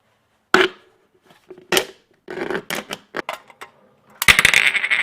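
An aluminum can is cut along a marked line, producing sharp metallic clicks and crunching snips in separate bursts that thicken into rapid crackling at the end, close and loud with no speech.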